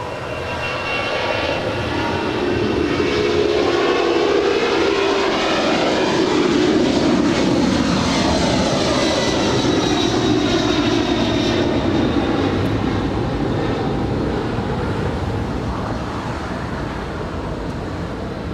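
A Finnair heavy jet lands on runway 25 left at LAX, its loud engine roar swelling and holding with sweeping whining tones that rise and fall before easing off toward the end.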